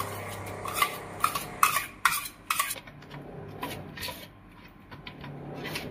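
Ghee goes into a pan while a metal spoon stirs and scrapes. A run of sharp, close clinks fills the first few seconds, then fades into softer, intermittent scraping.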